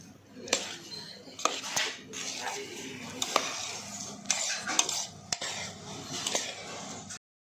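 Boondi being stirred through sugar syrup for motichoor, with soft wet scraping and clinks of a spoon against the vessel repeating close up over a faint background hiss.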